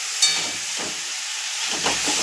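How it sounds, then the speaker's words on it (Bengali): Onion and spice masala sauté in a hot pan, giving a loud, constant hissing sizzle with faint bubbling pops underneath and a slight swell at the end. "এই যে পেঁয়াজটা, দিয়ে মশলাটা কষাচ্ছি"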